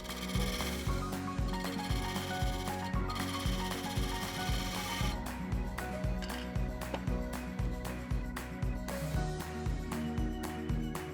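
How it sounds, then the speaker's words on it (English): Parting tool and skew chisel cutting a mortise in a wooden bowl blank on a lathe, a loud continuous rough scraping with a steady rhythmic thumping underneath, no talking. "Now let's cut a mortise. I'll be basically using a parting tool and a skew chisel for this process."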